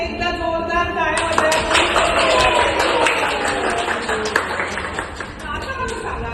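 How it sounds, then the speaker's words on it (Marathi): Schoolchildren clapping together in a classroom, a dense burst of many hands that starts strong and gradually thins toward the end, with scattered voices mixed in. "सगळ्या खातीर एकदा जोरदार टाळ्या"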